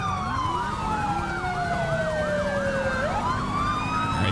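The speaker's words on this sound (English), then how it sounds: "I'm running dual siren right now." Two overlapping police car sirens in Grand Theft Auto V wail and yelp at once, one sweeping rapidly up and down while another glides slowly, over a constant engine drone.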